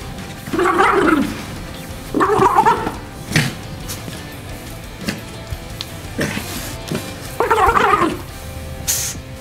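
A female dog growls and snarls playfully in several short bursts while shaking a toy, close by, with some scuffling and rattling between them.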